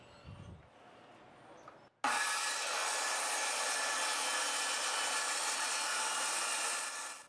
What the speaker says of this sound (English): the plunge cut with the circular saw will give you a cleaner edge